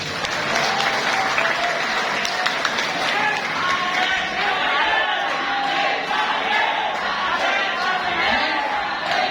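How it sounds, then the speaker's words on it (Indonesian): Loud, dense applause fills a crowd at an informal discussion forum with a politician and disabled participants at an Islamic Center, clapping steady throughout with cheering and voices mixed in. "tepuk tangan buat semuanya nih"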